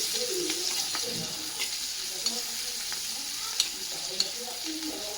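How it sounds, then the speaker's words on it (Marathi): Finely chopped medium onion sautés in a pan with a soft, steady sizzle and a few scattered clicks from stirring, with no voices. "छानपैकी कांदा परतून घ्यायचा गुलाबीसर रंगावरती"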